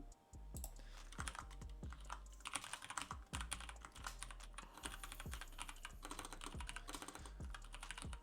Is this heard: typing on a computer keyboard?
yes